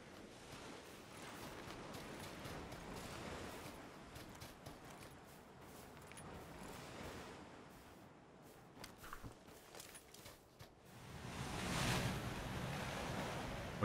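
Steady rushing river water in PlayerUnknown's Battlegrounds fills the background throughout, a constant wash of noise with some scattered clicks, swelling louder near the end.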